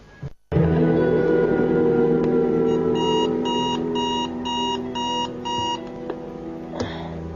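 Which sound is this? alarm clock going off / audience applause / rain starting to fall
alarm clock going off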